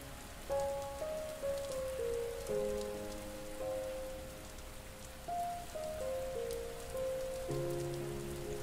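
Steady rain hisses softly on a surface beneath a gentle, slow melodic tone line that moves between held notes.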